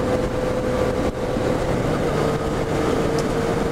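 A 2015 Yamaha FZ-09 motorcycle engine drones steadily at close range through wind rush while the rider downshifts, with no clear rev spike standing out.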